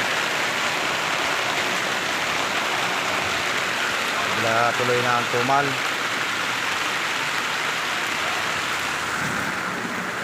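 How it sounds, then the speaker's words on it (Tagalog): Heavy rain drums steadily over a street food stall throughout, while someone speaks briefly over it near the middle. "Medyo malakas ang ulan mga idol."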